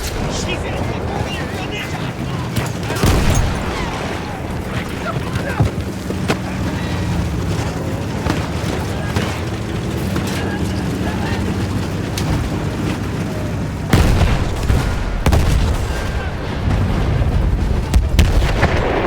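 Heavy booming artillery blasts roll through a dense, noisy Battlefield 1 battle scene at Ribécourt, with repeated thuds and bursts layered under voices calling out.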